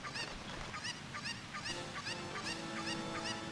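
A cucco chicken in the Zelda game Ocarina of Time squawks in a steady run of repeated, evenly spaced clucking calls over game background sound, with no talking.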